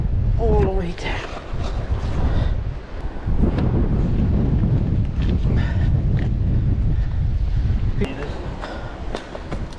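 Strong wind buffets the microphone at rocky seaside pools on the Lanzarote coast, a steady loud roar with rustling and a few footsteps, and a voice speaks briefly near the start.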